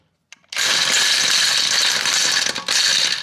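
A socket ratchet being worked on a wheel nut from a BMW, a loud continuous rapid clicking of the pawl that starts abruptly, runs steadily with one brief dip, then resumes up close.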